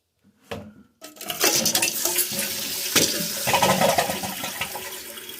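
A Kohler toilet with a new filler valve flushes in a loud rush of water, then the tank refills with a steady gushing hiss, close and with no talk.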